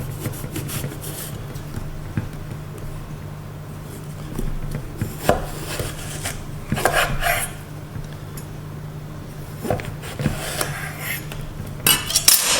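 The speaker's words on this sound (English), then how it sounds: "what I'm going to do is cut it down the middle lengthwise" A knife slices lengthwise down the middle of a whole unpeeled eggplant on a cutting board, giving scattered scraping and knocking strokes over a steady low hum, with a few sharper clicks near the end.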